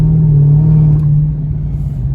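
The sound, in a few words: Dodge Charger SRT Hellcat being driven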